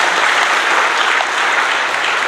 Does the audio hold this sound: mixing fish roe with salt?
no